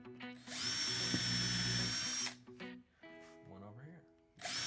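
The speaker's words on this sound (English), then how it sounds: "we're going to put 2 pilot holes in the 8-incher" A power drill boring pilot holes into an 8-inch wooden piece, one loud sustained high whine lasting about two seconds, followed by a brief shorter burst near the end with a person talking in between.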